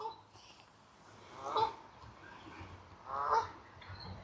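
A waterfowl at a botanical garden in Germany gives two short nasal honking calls about two seconds apart, faint and moderately distant over quiet outdoor background.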